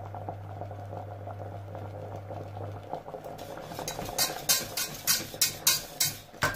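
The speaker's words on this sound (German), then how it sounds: "es kocht jetzt." Asparagus cream soup coming to a boil in a pot, a low hum giving way to bubbling and stirring with rhythmic scraping and splashing that grows louder near the end.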